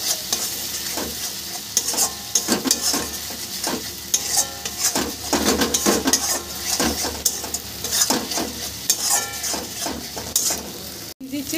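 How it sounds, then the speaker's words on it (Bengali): Tomato paste, onion, garlic, ginger and turmeric stir-fried in a pan for a loitta fish curry, a loud close sizzle with frequent scraping and clinking of a spatula against metal, no voices. "টমেটো পেস্টটাও পেঁয়াজ রসুন আদার সাথে ভালো করে কষিয়ে নেব।"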